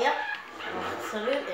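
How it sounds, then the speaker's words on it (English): A dog barks and yips close by, in a few short bursts, while someone talks over it during a Plants vs. Zombies game session on Xbox One. "Sorry about the dog there,"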